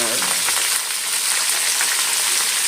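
Upma ingredients frying in a pan with salt and turmeric, a loud, close, continuous sizzle with a dense crackle that stays steady throughout.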